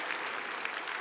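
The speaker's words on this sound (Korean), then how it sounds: "우리 다시 한번 하나님께 영광의 박수를 올려드리고 마칩니다" Congregation applause closing a church sermon, a brief dense burst of clapping throughout.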